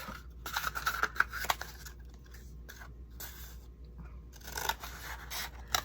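Scissors snipping through a heavy-duty cardboard toilet paper roll, with soft close scrapes and crisp cuts in irregular bursts, quiet and without talk.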